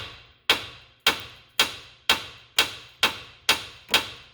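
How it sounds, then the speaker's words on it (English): A hammer strikes metal eight times in a steady, even rhythm, each sharp ringing clang close by and fading quickly. "you're going to take a hammer and you're going to hit the bolt just on the top"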